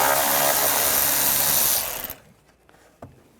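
Power tool whirs loudly, removing a screw with a T25 socket on a Volkswagen Tiguan cooling fan assembly, then stops abruptly after about two seconds, followed by a few faint clicks.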